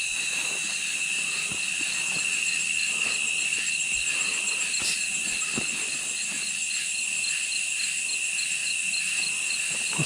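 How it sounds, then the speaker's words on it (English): Crickets chirp steadily in a forest at night, a dense, continuous high trill filling the whole stretch with a few faint rustles and clicks beneath. "before that cricket started going crazy"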